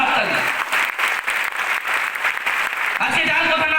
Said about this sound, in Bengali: স্যারের জন্য আমি চাইবো একটা জোরদার হাততালি